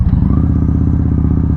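A 2017 Victory Highball motorcycle rumbles loud and close while being ridden, its V-twin engine giving a steady, throbbing low pulse throughout.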